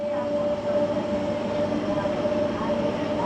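A MEMU train pulls out of Cheruvu Madhavaram station, a steady close rumble of wheels and motors with a sustained whining tone, faint voices underneath.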